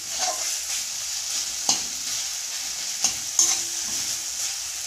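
Chopped tomatoes fry in a pan for an egg bhurji masala gravy, a steady close sizzle with a few sharp scrapes and clinks as a utensil stirs them.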